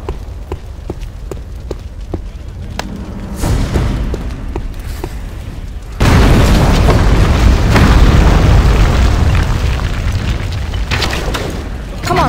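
Ballista shots and explosions in Dark Messiah of Might & Magic, a series of sharp impacts at first, then from midway a loud, sustained roaring blast that keeps rumbling to the end.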